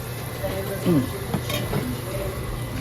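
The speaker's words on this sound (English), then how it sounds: "Hot pan. Hot pan. Oil ready. The butter ready to go. I'm going to skin down first." Fish fillets laid skin-down in a hot pan of oil and butter hiss and sizzle steadily, with brief scraping and utensil clinks close by as someone talks softly.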